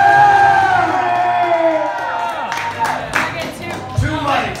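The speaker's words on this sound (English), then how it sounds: "Ladies and gentlemen, give it up for Shay!" Wrestling crowd at an event cheering and applauding loudly, with a drawn-out whoop fading early and shouts over continuous clapping, the crowd close and full throughout.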